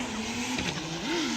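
A BMW E36 drift car with a 2JZ engine of about 900 horsepower revs at a drift championship practice, its engine note rising and falling in pitch at a moderate distance.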